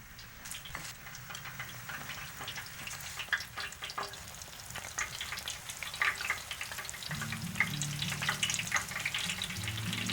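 Meal-and-flour coated food frying in hot grease, a steady close crackling sizzle with dense popping that carries on throughout, alone without talk.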